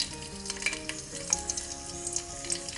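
Curry leaves sizzle and crackle in hot coconut oil in a pan, a steady close frying hiss with scattered small pops and no voices.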